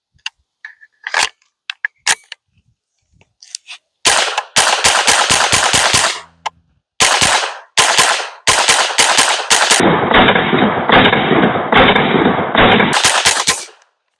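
A Smith & Wesson M&P 15-22 pistol fires at an outdoor range: a few scattered single shots, then long rapid strings of loud, sharp, close rimfire cracks in quick succession with brief pauses between strings.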